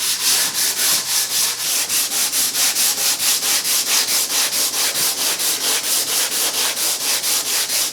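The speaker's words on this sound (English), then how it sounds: "Next step is to sand off any of this grain filler that might still be laying on the surface" Grain filler is sanded off the wooden base and cabinet of an antique Singer treadle sewing machine, a steady, rhythmic back-and-forth rasp that is close and loud, with about four strokes per second and no talk.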